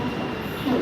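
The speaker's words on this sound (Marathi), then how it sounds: "अमृत भारत एक्सप्रेसचा अरायवल दौंडला झालेला आहे" Amrit Bharat Express passenger train arriving at Daund station on its inaugural Pune–Danapur run, a steady close rumble of rolling railcars and wheels on track, with faint voices underneath.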